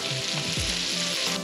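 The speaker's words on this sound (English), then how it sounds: "we got some sweet cream butter going in the pan. Let that start boiling down." Sweet cream butter with lemongrass and chunky garlic sizzles and fries steadily in a pan, a close, continuous crackling hiss with a few soft stirring knocks, no talking.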